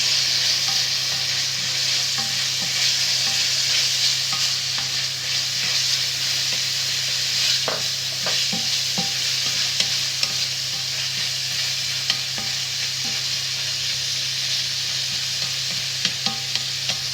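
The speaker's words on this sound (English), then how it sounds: "Now I am going in with my chopped tomatoes" Chopped tomatoes hiss and sizzle steadily in a hot pan, with scattered scraping strokes of stirring through the constant frying noise, close and fairly loud throughout, part of a homemade Nando's-style chicken dish.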